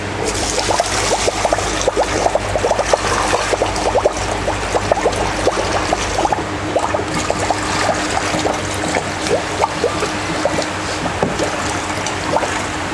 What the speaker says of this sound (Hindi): इसमें वॉशिंग के लिए पानी डालेंगे,